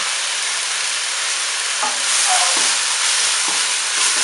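Water splashed into a pan of frying shiitake mushrooms and spaghetti, a loud steady hiss of sizzling with a few scraping stirs of a utensil, close and alone without talk.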